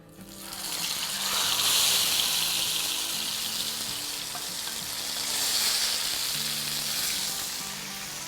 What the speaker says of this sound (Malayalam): അപ്പോൾ നമുക്ക് ഈ ഫിഷ് ഒന്ന് വറുത്തെടുക്കാം